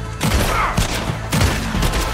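Gunfire in Red Dead Redemption II: two loud, close bursts of rapid shots, each a cluster of sharp cracks with echoing tails, spaced about a second apart.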